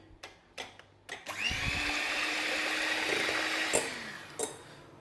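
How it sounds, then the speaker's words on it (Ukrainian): An electric hand mixer whips four chicken eggs until fluffy, starting after a few clicks and clatters and then running as a steady, close, high whirring drone for several seconds before a clink or two at the end. "Тепер яйця ми збиваємо міксером до пишності приблизно 2-3 хвилинки"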